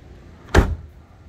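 A single solid thud as a Toyota AE92 car door shuts nearby, short and heavy, with a quiet background before and after.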